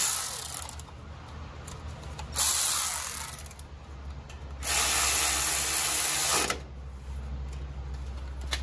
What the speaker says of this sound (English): let's put this 12 millimeter bolt in here. That holds that brake line.